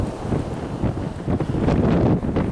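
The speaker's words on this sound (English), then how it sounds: "God, it's windy." Strong gusts buffet the microphone outdoors on an open field, a loud, uneven roar of wind noise rising and falling throughout with no talking.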